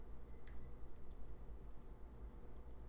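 Someone types CSS on a computer keyboard, producing faint, sparse key clicks in small irregular bursts over a low background hum.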